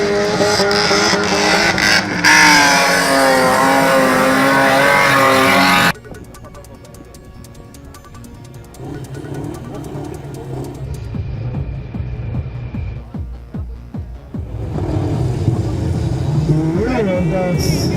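Stock cars on the track at Baruth roar loudly as they race and rev, with hard engine noise at first and then quieter passing and revving. A commentator speaks over much of it.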